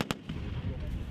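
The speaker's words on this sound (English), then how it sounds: "Gun will fire first, and then 5 seconds later," An artillery gun fires at a military shooting competition, a single sharp near blast at the very start with a short echoing tail, and a voice talks underneath.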